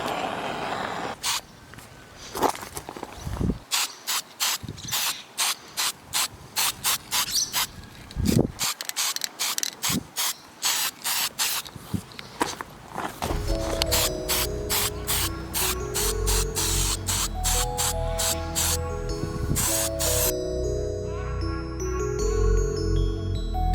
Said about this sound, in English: about to give the manifold a bit of a spray